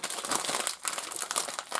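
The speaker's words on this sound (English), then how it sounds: "I could be just scratching the bag" A sealed plastic bag holding a Lego Muppets collectible minifigure crinkles and crunches steadily as it is squeezed and felt by hand, close and continuous for a couple of seconds.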